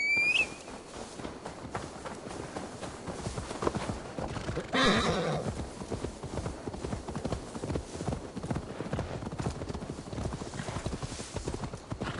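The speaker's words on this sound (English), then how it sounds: "Now to deliver Magni his horse." Horse in the video game Assassin's Creed Valhalla, a loud neigh near the start followed by steady clip-clopping hooves throughout, with a rushing whoosh midway.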